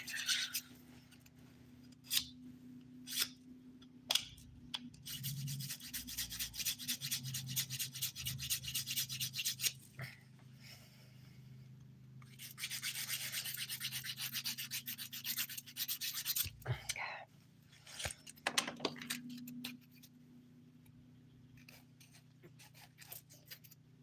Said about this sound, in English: So this is the 100 grit side I am using, which is really more like a new 180 grit file because this is so like worn in.